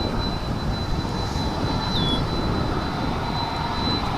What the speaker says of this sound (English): Here comes that 767 cargo.